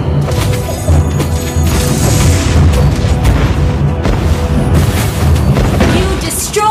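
A turret blows up in Mobile Legends with a loud, sustained booming crash and crackling debris, layered under in-game announcer speech and busy battle effects throughout.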